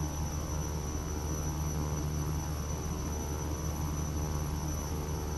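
Simulated engine drone of a King Air C-90B twin turboprop in FSX, a steady, loud, continuous hum with strong low tones and constant hiss throughout, no voices.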